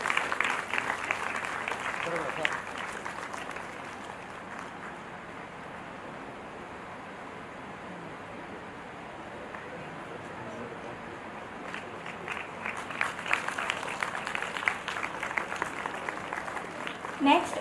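Audience applause at an international fashion conference's valediction ceremony: clapping at the start fades to a low murmur through the middle, then rises again toward the end, with a voice speaking over the hall.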